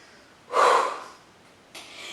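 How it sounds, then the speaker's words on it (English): Sharp, forceful exhalations during a lower body workout come close and loud: one strong breathy burst, a pause, then another shorter huff. "Quick breathing. Exhale, exhale, exhale."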